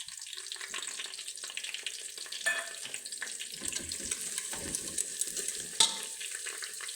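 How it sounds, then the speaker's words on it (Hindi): Garlic and ginger paste sizzles and fries steadily in a pan, with occasional stirring scrapes and clinks, close and moderately quiet throughout. "अब इसके अंदर हम लहसुन और अदरक का पेस्ट डालेंगे। इसको थोड़ी देर भूनेंगे।"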